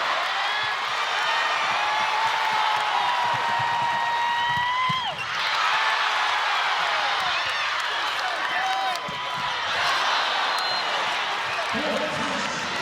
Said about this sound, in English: You hear the crowd behind us.